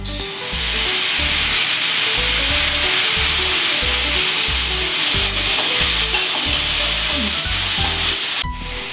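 Moong dal sizzles loudly in a pan on low heat, stir-fried with spices into a bright, constant frying hiss. Close stirring scrapes come in a regular rhythm, roughly every half second, with no talking.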